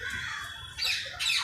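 A green-cheeked conure parrot at Kankaria Zoo in Ahmedabad gives harsh, loud squawks in two bursts near the end, over a low background murmur.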